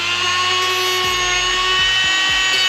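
A power tool whines loudly and steadily while cutting a headlight mounting piece on a Honda S2000 with converted LED headlights, with a high-pitched motor drone and rhythmic dips in pitch as it bites into the material.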